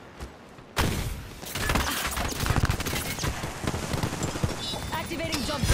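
Gunfire in the video game Apex Legends breaks out suddenly after a quiet start, a dense, crackling run of rapid shots and impacts that continues over a voice speaking.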